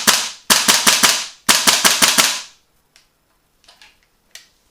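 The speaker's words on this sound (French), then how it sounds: "On peut enchaîner un peu les tirs, vous voyez la sensi." A GHK G5 airsoft replica fires two fast bursts of loud, sharp cracking shots in quick rhythm, followed by a few isolated faint clicks and taps.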